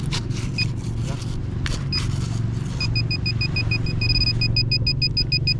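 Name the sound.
metal detector tone signalling buried iron on beach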